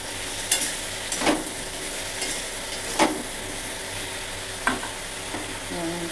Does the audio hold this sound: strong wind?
no